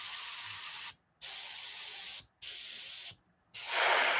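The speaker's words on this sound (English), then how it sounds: "This is transparent violet Com Art, and it's ready to spray." Transparent violet Com Art paint hisses from an airbrush onto a fishing lure in three steady bursts separated by short pauses, then a fourth, louder burst begins.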